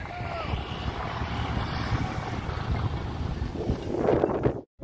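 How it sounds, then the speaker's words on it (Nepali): Strong, fast wind roars past a moving motorbike on a mountain road, a constant rushing buffet against the microphone that swells louder near the end, then cuts out briefly. "हावा यति फास्ट छ कि भान्जाको बाइकै ढल हो क्या"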